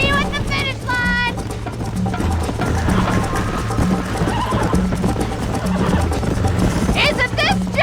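A horse gallops with steady clip-clop hoofbeats and a sharp whinny in the Red Dead Redemption video game, loud and continuous, with a voice calling out briefly over it.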